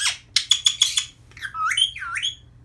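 A hormonal pet bird nearby lets out a quick run of sharp, loud chirps, then a pause, then a few swooping whistled squawks, fairly close and with no voices.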